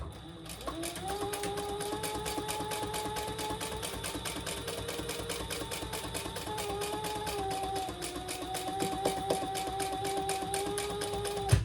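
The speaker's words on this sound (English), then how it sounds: "So we're just gonna top stitch all the way around." A sewing machine top stitches around a clutch crossbody bag at an eighth-inch seam, a rapid steady mechanical whirr with even needle ticks, close and continuous, ending in a small clunk.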